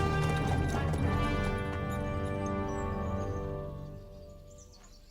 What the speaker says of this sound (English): Yeah, look at his horse.